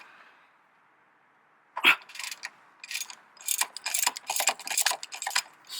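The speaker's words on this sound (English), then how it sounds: "I'm using my 1/2 inch ratchet extension and the long socket." A half-inch ratchet with an extension and long 17mm socket clicks in quick repeated bursts while turning a motor mount bolt on a 1998–2002 Honda Accord, close and fairly loud after a quiet start.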